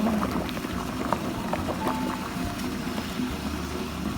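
Thai curry with yam and grilled fish roe boils in a pot, a soft steady bubbling and popping with occasional louder blips, close and moderately quiet, without talk.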